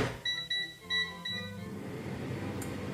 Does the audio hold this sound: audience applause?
no